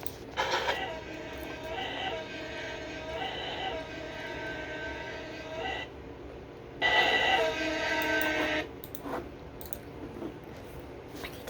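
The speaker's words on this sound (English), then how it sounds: "That train horn sounds horrible" A harsh, blaring train horn sounds in two long blasts, the first sustained for several seconds and the second shorter, loud and close, with brief low background between them.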